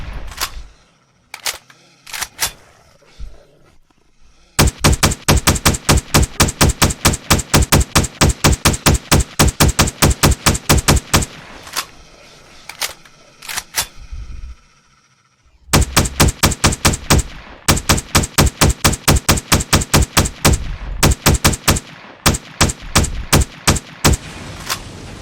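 Turret machine gun in the STALKER game firing long rapid bursts of loud, sharp shots, broken by short pauses and single shots, with no talk.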